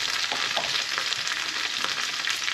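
Shrimp fry in a pan for a teriyaki noodle dish, making a dense, even sizzle that holds steady and close throughout without pause.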